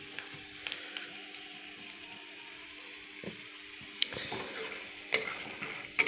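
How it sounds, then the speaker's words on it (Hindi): Peanuts fry in hot oil over a lowered gas flame with a quiet, steady sizzle, punctuated by small ticking pops and occasional clinks of a stirring utensil against the pan. "ये मूँगफली देखिए कितना अच्छे से तेल में तल रहा है"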